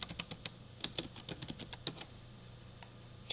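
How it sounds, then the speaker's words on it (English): Quick, light keystrokes on a computer keyboard as a message is typed for a discussion forum post, a close, faint run of irregular taps without any voices. "type your message."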